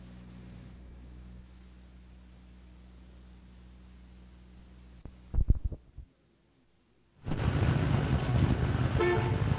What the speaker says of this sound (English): here we are again, 7:30 in the morning and sitting in another traffic jam